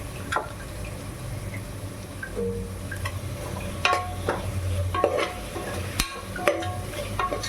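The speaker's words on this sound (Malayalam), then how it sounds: "ഇതിനോട് ഇളക്കി കൊടുക്കുക" Vegetable rice being stirred together with a mint, ginger, garlic and green chilli masala in a pan, close and fairly quiet, with soft scrapes and clinks of a spoon over a faint sizzle.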